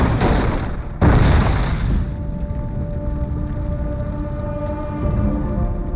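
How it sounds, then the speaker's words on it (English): Tanks being hit during the Ardennes battle on the Western Front, with a sharp, loud blast followed by continuous rumbling explosions and distant gunfire that hold a dense roar throughout. "There's tanks being hit, bang, bang, bang, all over the place."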